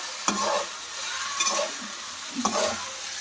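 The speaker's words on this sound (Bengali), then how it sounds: "তো এখানে চাউমিনগুলো সব ভেজিটেবলে ছেড়ে দিলাম, নাড়ার পাড়া।" Chow mein noodles tossed with vegetables in a hot pan, with three distinct scraping stir strokes about a second apart over a steady close sizzle.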